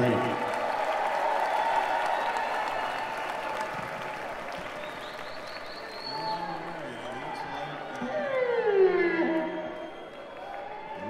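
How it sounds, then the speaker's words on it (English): A concert audience at the Orpheum Theatre in San Francisco applauds after a band introduction, a broad wash of clapping that swells and fades, with cheers and whistles rising near the end. "Give him a round of applause"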